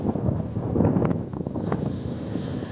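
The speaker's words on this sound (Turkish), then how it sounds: "Oldukça rüzgar var." Strong wind buffets the microphone outdoors in a newly planted pistachio orchard, a continuous low rumble gusting louder and softer throughout with no voices.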